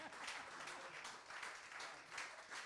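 Steady audience applause, many hands clapping in dense continuous waves, faint and distant throughout.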